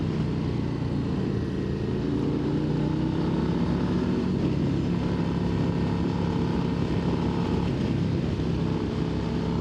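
A 2025 Harley-Davidson CVO Road Glide ST is ridden in second gear at around 4,500 RPM, giving a steady, loud engine drone with heavy wind rush throughout and no talk.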